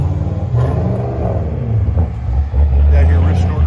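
A Buick race car engine, a street car fitted with a sequential gearbox, revs and rumbles loudly on a speedway track, its low drone rising and falling with a surge near the end, with talk faintly under it.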